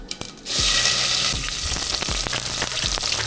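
Cumin seeds and sliced onions drop into hot oil and burst into a loud sizzle after a short quiet start. Rhythmic scraping knocks from stirring repeat over the bright, continuous frying hiss.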